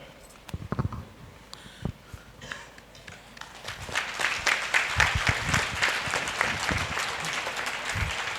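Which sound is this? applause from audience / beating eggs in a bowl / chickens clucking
applause from audience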